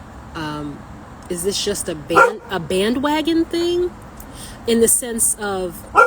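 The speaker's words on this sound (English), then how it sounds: "who are you barking at" A pet dog barks and yips in short bursts close by, mostly under a person talking steadily indoors.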